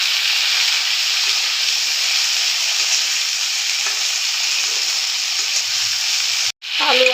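Potatoes frying in a pan for a Bengali drumstick and potato chorchori with mustard-poppy paste, a steady close sizzle and hiss running throughout, with a brief break near the end.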